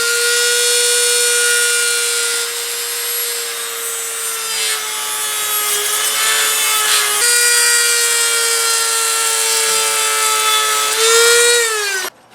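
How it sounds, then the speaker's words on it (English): A Dremel rotary tool grinding and shaping a knife blade, a loud close high-pitched whine holding steady and dipping slightly as it bites into the metal, ending abruptly as it stops. "So what I do is I take my Dremel and I try to make it a little bit more precise."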